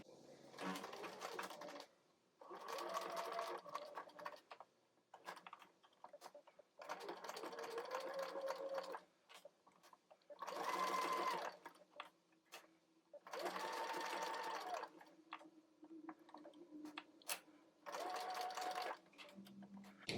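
A sewing machine stitches stretchy green knit fabric for a flower-petal doll headband, running in repeated bursts of a few seconds separated by short pauses, close and clear with the presser foot adjusted between runs.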